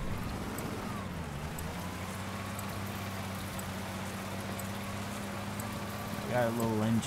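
A heavy armored vehicle's engine in the combat game Crossout drones as a steady low hum with a shifting pitch, and a brief rougher rev near the end.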